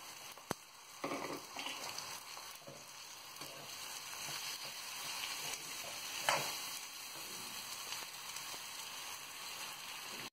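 Okra frying in a pan of roasted spices, giving a steady, close crackling sizzle with occasional stirring scrapes and a brief louder hiss, and no talking.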